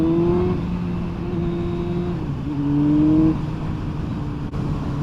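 A Yamaha R1 motorcycle engine with freshly cleaned carburetors idles steadily, a low even drone with a slight rise in pitch midway, running alone without any talk.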